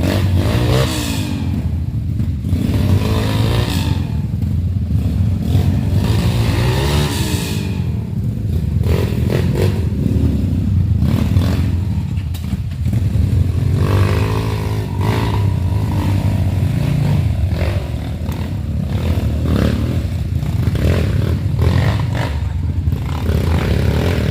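A motorcycle rides along a dirt trail, its engine loud and close throughout as it revs and accelerates, with clattering and scraping from the rough ground.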